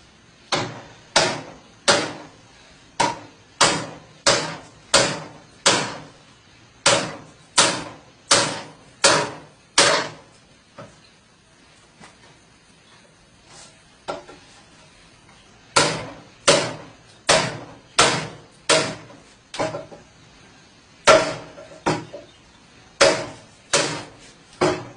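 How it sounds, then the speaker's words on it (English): A 3-pound steel mallet strikes the spine of a Russian AKM bayonet, sharp metallic impacts in fast rhythmic runs of about eight to ten blows, separated by short pauses, close and loud. "we'll do some hammer impacts on the spine and see how well it holds up"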